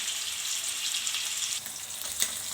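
Paneer pieces fry in a pan with a dense, bright crackling sizzle, close and steady, with a few sharper pops near the end.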